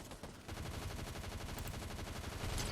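Rapid bursts of gunfire crackle continuously in Fortnite, loud and dense, with no talking over it.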